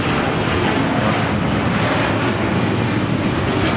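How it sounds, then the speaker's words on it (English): A Delta Boeing 757-300 takes off on the south side at LAX, its jet engines a loud, continuous broadband roar held steady throughout with no voices. "Delta 757-300 taking off here on the south side."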